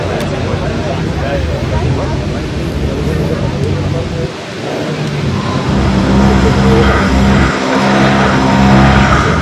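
Cars launching down a quarter-mile drag strip at Aldenhoven, including a BMW and a V8 Savoy, with a loud continuous engine roar that swells near the end over an outdoor crowd.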